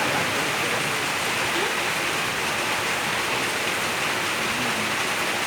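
Steady, dense rain pours continuously as a close, broadband hiss with no talk over it.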